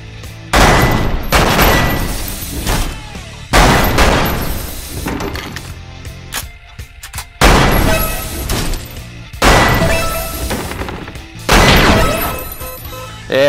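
Bursts of rapid gunfire from the VR shooter Lethal VR come in about five loud, close volleys separated by short quieter gaps, each a dense crackling barrage.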